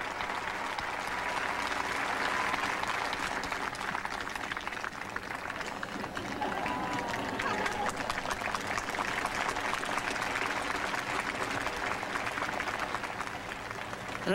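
Crowd applauding at an outdoor figure skating event in Sun Valley after a ladies' short program, dense sustained clapping that holds steady and fairly loud throughout with no speech over it.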